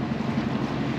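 A sailboat motors under engine at sea, a steady low drone blended with broadband wind and water rush, continuous and loud throughout with no talk.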